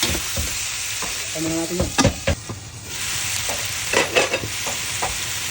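Ingredients, with chicken for sinampalukang manok, sautéing in a pan, a close steady sizzle broken by sharp stirring clatters and scrapes, with a brief spoken remark partway through.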